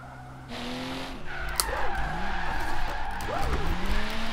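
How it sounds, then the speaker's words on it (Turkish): A car drifting in the Forza Horizon 3 racing game, tires squealing in long wavering skids over a steady engine drone, loud and close. "Gelin geri gelin oradan sol drift yapalım"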